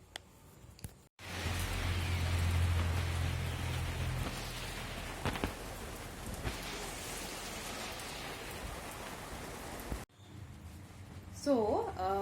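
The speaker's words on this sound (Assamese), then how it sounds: "ইমান বৰষুণ দি আছে" Heavy rain pouring down outside a house on a farm, a dense steady roar for most of the stretch, cutting off abruptly near the end where a voice speaks.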